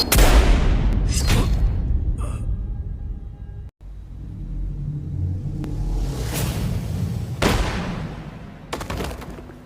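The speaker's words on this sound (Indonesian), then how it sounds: "2 tembakan Jigen akhirnya berhasil mengenai Kawashima hingga membuatnya maut saat itu juga" Gunshots in an anime scene of a fight against a mafia gang: several sharp, loud cracks with rumbling tails, a couple early on and two more later, with quieter stretches between.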